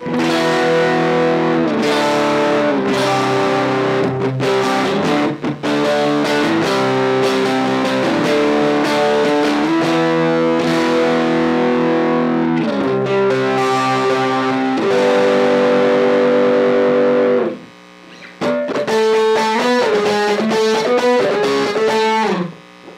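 Electric guitar run through an M-VAVE Cube Baby overdrive effect with the gain turned all the way up, loud saturated chords and riffs ringing continuously, one brief gap near the end before playing resumes, no voices.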